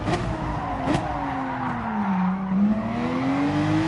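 Race car in Gran Turismo Sport at the Red Bull Ring braking hard into a corner, a loud tire skid sliding in a falling then rising whine over steady engine drone, with a couple of sharp bumps early on.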